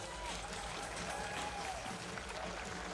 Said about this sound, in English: a big round of applause to all of our distance swimmers